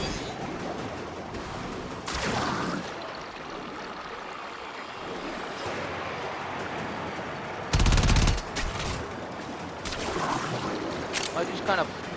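Rapid gunfire bursts from a video game weapon built like a sniper rifle with heavy recoil, several loud volleys against background game noise, with a person talking over parts of it.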